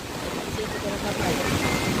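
Continuous loud roar of rushing flood water overflowing Layawan Bridge in Oroquieta City, a dense churning wash with no pauses that swells slightly toward the end.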